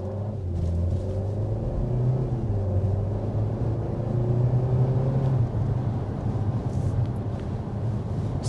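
Steady low road rumble and engine hum inside the cabin of a 2024 Kia Seltos SUV while driving, a continuous drone without pauses.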